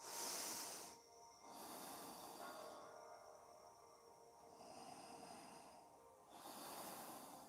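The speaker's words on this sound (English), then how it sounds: "Breathing through your nose." Slow nasal breaths during a yoga stretch, each long airy inhale or exhale fairly close and soft, separated by brief pauses, with no talking.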